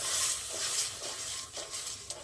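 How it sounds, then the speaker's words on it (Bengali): Masala for a soybean curry stir-fried in a pan with a splash of water, giving a soft, steady sizzle and hiss broken by a few gentle stirring strokes, with no talking. "জল দিয়ে ভালো করে মশলাটা আবার কষিয়ে নেব"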